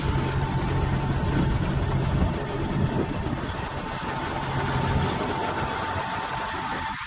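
A 2023 Kenworth T680 truck engine idles steadily and smoothly up close, a continuous low rumble with no one talking.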